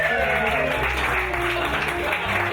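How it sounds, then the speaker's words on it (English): A game show audience in a bar breaks into loud, dense applause and cheering for the winner, a continuous wash of clapping close by with voices mixed in. "A huge round of applause, ladies and gentlemen, for our winner"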